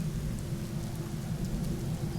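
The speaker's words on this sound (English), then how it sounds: "as soon as I start recording, it's gotta rain" Rain and thunder in the video game Empyrion Galactic Survival, a steady hiss of rainfall with a low rumbling undertone, moderately quiet and without talk.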